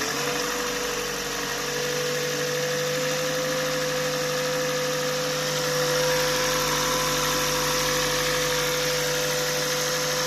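A Toyota Prius Alpha engine runs at a steady idle, a continuous close hum with constant vibration and a faint tonal whine, level and unbroken throughout.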